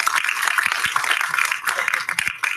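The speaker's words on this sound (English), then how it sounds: "Please give him a round of applause as he begins his talk." An audience applauds a speaker at an adult learning event, a brief burst of fairly close, loud clapping that tapers off toward the end.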